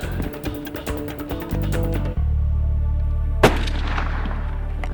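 A single hunting rifle shot fired at plains game in Botswana's Okavango Delta, one loud close blast cutting through a steady low rumble, followed by a fading echo.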